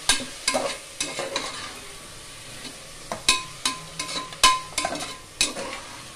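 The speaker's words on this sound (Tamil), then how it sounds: "தக்காளி போடுறேன். இஞ்சி பூண்டு நசுக்கி வச்சிருக்கேன் போடுறேன்." Tomato and crushed ginger and garlic sautéing in a pan for a butter bean and potato gravy, with a soft sizzle under intermittent close scrapes and knocks from stirring, and no talking.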